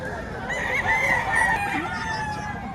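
A rooster crows loudly and close at a poultry market in Padre Garcia, one long drawn-out call over a low background murmur of people.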